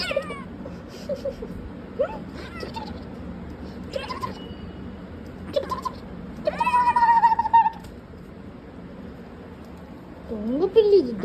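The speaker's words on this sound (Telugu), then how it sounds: "దొంగ పిల్లి, ఇది దొంగ పిల్లి" A cat meows repeatedly indoors, several drawn-out calls with one long wavering cry midway, heard close over steady background noise and mixed with a person talking.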